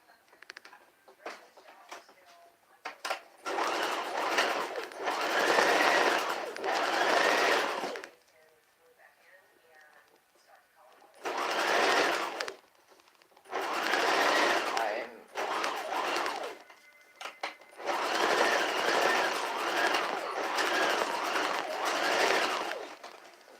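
A sewing machine stitches a tubie pad in several bursts of fast mechanical rattling, separated by pauses with quiet handling noise.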